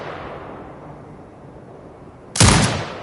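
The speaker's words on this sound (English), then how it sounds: "Exit binocular mode and command the turret to fire." A turret fires in a military video game, one sudden loud blast that follows a few seconds of quiet ambient hum and then decays.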